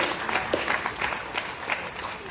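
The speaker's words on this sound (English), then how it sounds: "I want you guys to give a big round of applause to entrepreneur" Audience applause for entrepreneurs at an awards ceremony in a music academy hall in Chennai, a soft, fairly distant patter of many hands with a few sharper claps standing out.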